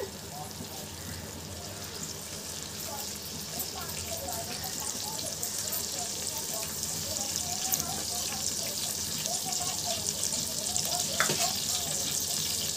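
Two spoons of cooking oil heat in a pan, giving a soft, continuous crackling hiss at a steady level that swells slightly toward the end.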